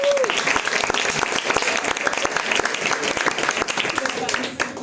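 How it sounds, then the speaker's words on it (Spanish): Loud, dense audience applause at a talk event fills the space from start to finish, with a brief voice at the very beginning before the clapping swells and holds steady. "un fuerte aplauso para Rocío"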